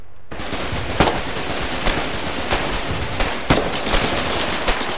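.50 cal machine gun firing in the war game Foxhole during an infantry battle at a bridge, a loud, continuous rapid stream of shots with sharper cracks standing out every second or so.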